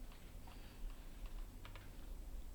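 Soft clicking of computer keyboard arrow keys, a few light taps spread across a quiet room background with no talking.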